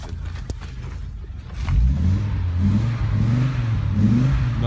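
An Audi Ur Quattro 10v engine cranks with a short starter whir, catches and fires, then settles into a loud, rumbling idle with a few revs, close to the listener.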